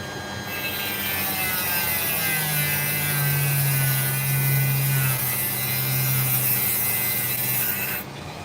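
A Dremel rotary tool grinds steadily through an opal, a close, continuous high whine with a wavering lower hum that runs for about eight seconds before cutting off abruptly.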